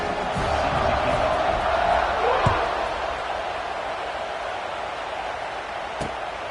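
A football stadium crowd roars at kickoff, a dense sustained wall of cheering that swells and then eases slightly, with a commentator's voice over it.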